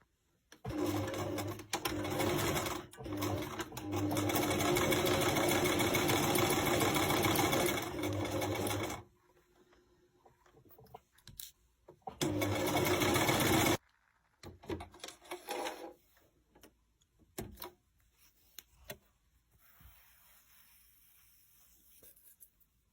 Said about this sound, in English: your sewing machine.